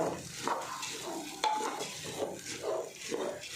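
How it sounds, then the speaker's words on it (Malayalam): Rice being stirred and fried in ghee for biryani, with a steady broadband sizzle and repeated scraping stir strokes, close and moderately loud, no talking. "അതിങ്ങനെ നെയ്യിൽ നന്നായിട്ടൊന്ന് മിക്സ് ചെയ്ത് കൊടുക്കുക"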